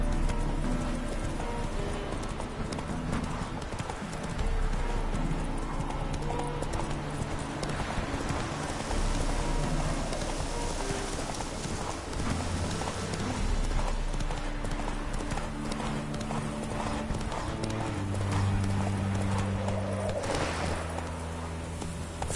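Roach, the horse in The Witcher 3, gallops in a steady rapid clip-clop of hooves over a continuous game soundscape with music and birds, clear and prominent throughout.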